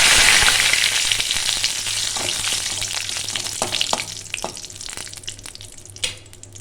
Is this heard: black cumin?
yes